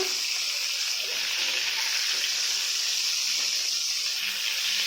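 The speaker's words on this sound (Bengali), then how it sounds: "এবার ভেজে নিচ্ছি।" Prawns frying in oil in a pan for curd prawn curry, giving a steady, continuous sizzle close by that holds at an even level throughout, with no voices.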